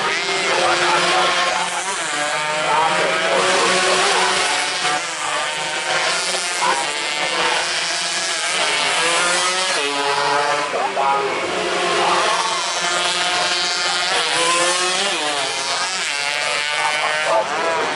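Motorcycles race through a 2023 road race at Alun-alun Purbalingga, their engines a continuous, loud, wavering whine that rises and falls as bikes pass, with an excited commentator talking over the top throughout.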